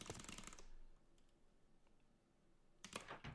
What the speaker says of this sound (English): Here's the sound of a fresh keyboard as well.